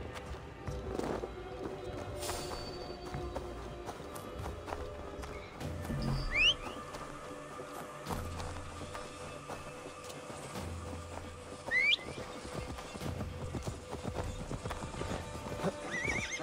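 A horse's hooves clip-clop steadily in the Assassin's Creed Valhalla video game, a continuous walking and trotting rhythm with occasional whinnies, set against busy game ambience and music.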